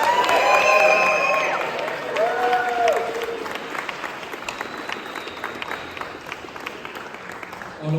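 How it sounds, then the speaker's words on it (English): Wedding guests applaud for Freya during the reception speeches, a burst of clapping and cheering with whoops that swells at the start and then thins into scattered claps and crowd murmur. "Round of applause for Freya."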